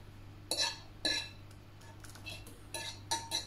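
A utensil mixes a pasta sauce of parmesan, black pepper and lardons, making a few sharp metallic clinks and scrapes against the bowl in irregular bursts, near and fairly quiet.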